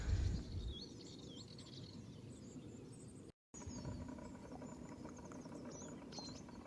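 Small songbird, a Dartford warbler, calling in open outdoor habitat, with quick scratchy warbling phrases at moderate distance over a steady low wind rumble, broken by a brief silent gap midway.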